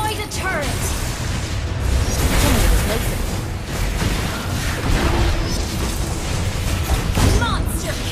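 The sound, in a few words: turret destroyed explosion in Mobile Legends video game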